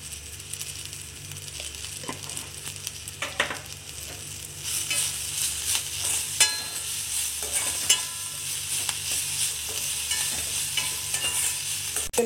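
Ingredients for a Tamil thoran sauté and get stirred in a pan, giving a steady, moderate sizzle with scattered scraping and clinking from the spoon, close by with no talking.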